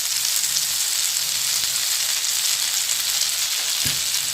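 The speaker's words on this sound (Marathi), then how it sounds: "कडेने तूप सोडून द्या तूप किंवा बटरच सोडा तेल सोडू नका" Dahi toast sizzling in ghee on a hot pan, a loud, even, close hiss of frying that holds steady throughout, with one brief soft knock near the end and no voices.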